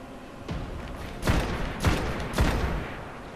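Scout rifle fire in the Destiny video game, three or four heavy booming shots spaced roughly half a second apart, each with a short rumbling tail over a constant noisy background.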